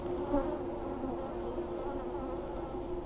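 Honeybees buzz around an open hive during an inspection, a dense steady drone close to the microphone with individual bees passing by, no talk.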